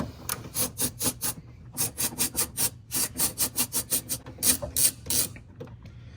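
A ratchet works loose a 10mm bolt on the driver's side of a car during a DRL installation, making rapid rhythmic clicking bursts in quick repeated strokes, close and clear with no voices.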